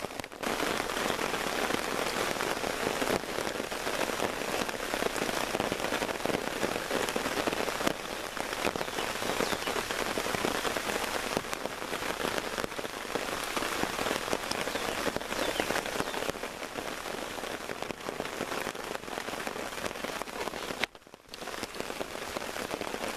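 Steady rain pours on the ground and camping gear at an overnight bushcraft camp in Texas, a dense, continuous hiss of drops with no pauses, loud and close throughout.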